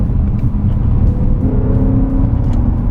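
A BMW E90 M3 accelerating hard on back roads gives a loud, steady engine roar heard from inside the car, with a rising tonal whine building midway over heavy road rumble.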